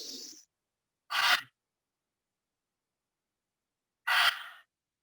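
Two slow, audible breaths during a yoga hold, each a broad airy exhale with long silence between, heard close and alone without any talk.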